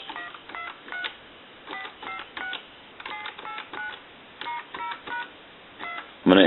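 A repaired Spirit of St. Louis field telephone sends a quick run of short, evenly spaced dialing tone beeps in small clusters, each one clean and moderately loud against a faint hiss.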